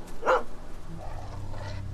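A dog in The Walking Dead video game gives a single sharp bark, close by, followed by quieter whimpering sounds against a low background hum.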